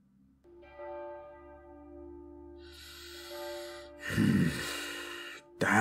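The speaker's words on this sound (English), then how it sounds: "Damn bells!" Church bells toll in an old royal court setting: a deep ringing bell with a long sustained hum, then a louder clanging strike with bright overtones, moderately distant.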